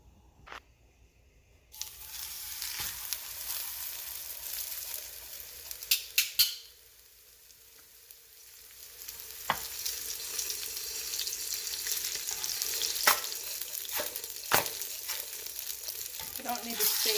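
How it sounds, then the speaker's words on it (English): Tortillas sizzle in hot oil in a pan, a steady crackling fry that starts abruptly, dips briefly, then swells again with occasional sharp pops and clatter. "I find that frying it brings out the flavor of the tortilla."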